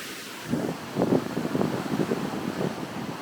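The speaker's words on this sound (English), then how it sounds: "You can hear the wind whipping too." Strong gusting wind from Hurricane Ian buffets the microphone outdoors at Babcock Ranch, a steady roar with louder surging gusts throughout, no voices.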